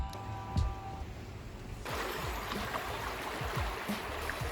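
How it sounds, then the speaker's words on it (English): Someone wading through water in a flooded parking lot during a storm, broadband splashing and sloshing close by, with a steady rushing wash after the first couple of seconds and repeated low sloshes from each step. "Quite a lot of walking in the water."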